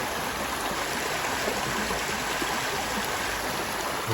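Copperas Creek flowing in the Red River Gorge, a steady, even hiss of running water at moderate level, unbroken and with no voices.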